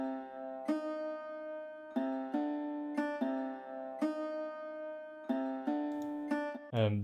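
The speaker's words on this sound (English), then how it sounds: "And most of the time I use this kind of like pluck sound." A bright synth pluck sound from a beat producer, playing a repeated melodic pattern of sharp, decaying notes in a steady rhythm, clear and alone, with a brief swelling note right at the end.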